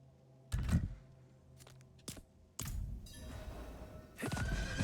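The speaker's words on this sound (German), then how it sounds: "guckt mal, wir haben ein Pferd" A horse in a video game whinnies in a few loud bursts with pauses between, over a low hum of game background sound, with faint thuds of hooves or footsteps.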